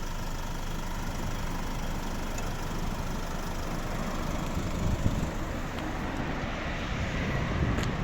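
A 2009 Nissan Qashqai+2 2.0 dCi diesel engine idles with a steady, low rumble at close range, an even, unchanging drone throughout.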